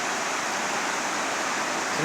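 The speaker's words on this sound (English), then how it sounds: "This is Burn Boot Creek." Burn Boot Creek rushes through wilderness on the Pacific Crest Trail, a steady broadband roar of flowing water that stays even and close throughout.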